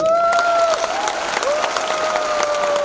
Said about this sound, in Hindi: सो हमारे डायरेक्टर्स के लिए तालियां बजाइए